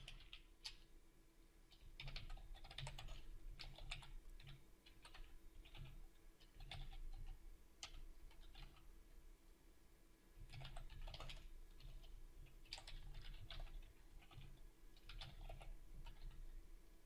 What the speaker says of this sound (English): And notice when I'm typing these things, as soon as I have IntelliSense showing me the element I want, I can just hit tab